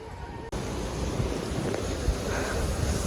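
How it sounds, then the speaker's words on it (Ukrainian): Waves washing through an outdoor water park pool, a continuous churning surf noise with some wind buffeting the microphone. "Дивіться, море хвилі тут є."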